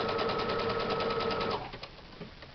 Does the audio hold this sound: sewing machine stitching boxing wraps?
yes